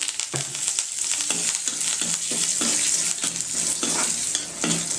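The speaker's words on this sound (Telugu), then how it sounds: "ఇవన్నీ ఫ్రై అయిపోయి గ్యాస్ ఆఫ్ చేసేసాను." Cashews, asafoetida and curry leaves fry in hot oil in a pan, giving a steady loud sizzle with repeated scraping stirs throughout and no talking.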